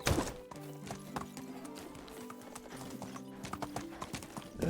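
A horse in a video game gallops with rapid, steady hoofbeats repeating close up over sustained tonal music, with a brief whinny.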